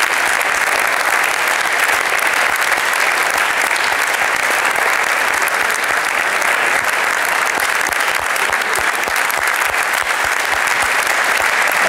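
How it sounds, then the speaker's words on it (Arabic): Studio audience applause at a Tunisian television talk show, loud, dense clapping sustained steadily from start to finish with no talk over it. "نحب تصفيقة كبيرة برشا برشا برشا"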